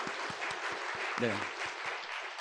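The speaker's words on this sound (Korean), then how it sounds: "우리 축복의 박수를 한번 보내드리겠습니다." A church congregation gives blessing applause during a Sunday service, sustained and dense, with a short spoken word briefly over it partway through.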